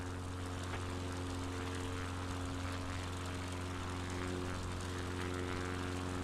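Aircraft engine idling in Microsoft Flight Simulator 2020, a steady low propeller drone with a constant hum and no change in pitch throughout.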